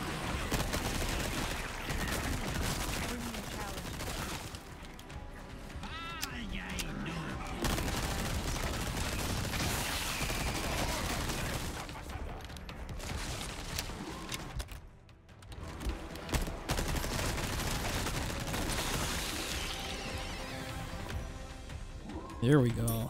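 Gunfire in Resident Evil 4 Separate Ways keeps going through dense combat with booms and crashes, mostly continuous and loud, while someone comments over the action.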